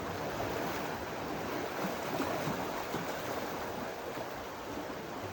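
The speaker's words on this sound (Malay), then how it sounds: "Ombak datang." Ocean waves wash onto the beach at Batu Putih in Melaka, a steady, faint rushing surf that swells slightly without pause, heard alone with no voices.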